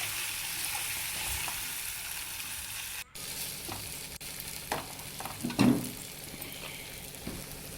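Cut mushrooms sizzle steadily as they fry in a pan for a semi gravy, with a few utensil clacks and a brief burst of louder stirring partway through.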